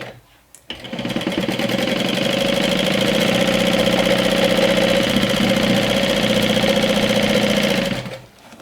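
An electric sewing machine runs a continuous fast stitch along a seam joining vinyl to fabric, a loud steady whirring hum that starts abruptly and stops after about seven seconds.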